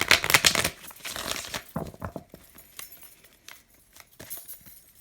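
A deck of tarot cards is shuffled up close, with a dense burst of riffling at the start followed by sparser flicks and taps.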